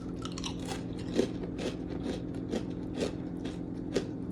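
Crisp crunching bites into homemade langue de chat biscuits, a steady series of about eight sharp crunches spaced roughly half a second apart, close and clear with no talking.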